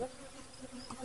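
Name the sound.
honey bees at a hive entrance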